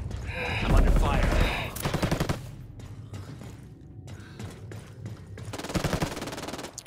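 Rapid automatic gunfire bursts from the video game Ghost Recon Wildlands, loud and close, firing in several volleys with short gaps between them, mixed with game effects and a voice talking briefly.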